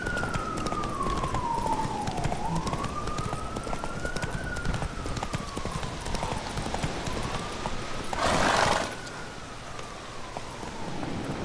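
Horse galloping in The Witcher 3 video game, rapid steady hoofbeats throughout with a wailing police siren rising and falling over them and a brief burst of noise near the end.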